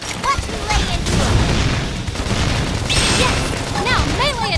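Gunfire in the Xenoblade Chronicles X video game, bursts of loud booming shots and impacts amid battle effects, with character voices shouting over the combat throughout.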